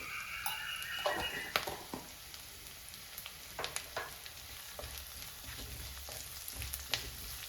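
Ginger and garlic sautéing in a pan for a Kerala-style sardine curry, with a steady soft sizzle and occasional clinks of a spoon stirring, fairly quiet and close, no talk.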